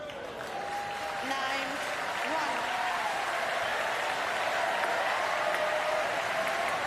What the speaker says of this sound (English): Well, Peng Wei-nan and Xiong Guian get a big cheer from the crowd as they're up and running with their first point.